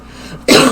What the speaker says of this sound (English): feeling a lot of need to clear my throat this morning